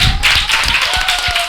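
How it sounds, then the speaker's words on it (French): Children at a kindergarten in the diocese of Katiola clapping for abbé Abel, a close, fairly loud irregular patter of small hands with distinct sharp claps and a steady tone running underneath. "On continue d'applaudir l'abbé Abel."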